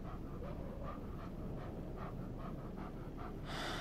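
Mushroom, a dog in the video game Life Is Strange 2, panting in quick, steady breaths, close and quiet over a dense game background.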